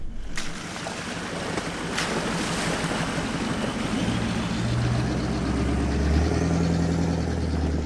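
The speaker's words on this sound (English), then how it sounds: "Crossing Fig Tree Creek again." A 4WD fords Fig Tree Creek on a bush track in Gregory National Park, Northern Territory: steady rushing, splashing water over a low engine rumble, with wind buffeting the microphone throughout and no talking.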